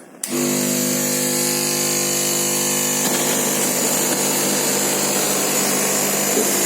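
A homemade petrol-powered soldering station starts abruptly and then runs with a steady, loud, droning whine that holds constant throughout, with no voices.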